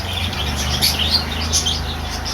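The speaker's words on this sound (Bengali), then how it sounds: "তোমাদের সাথে দেখাচ্ছি পায়রা পাখি" Pigeons, including Sirazi and Lakka breeds, at Guma haat bird market give repeated light chirps and tweets over a steady low background hum, fairly near and without talk.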